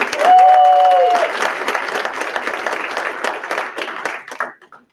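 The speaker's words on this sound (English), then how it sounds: "Round of applause." A round of applause from a room of attendees at a company event as a finance vice president is introduced; dense clapping starts loud with a faint whistle-like tone early, then thins and fades out toward the end.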